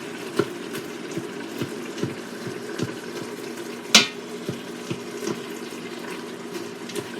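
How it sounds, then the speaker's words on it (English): Cooked ground meat for chili being broken up in an 8-quart Instant Pot, soft scraping and stirring taps against a steady sizzling hiss, with one sharper knock midway. "I've been breaking the meat up and meat looks done."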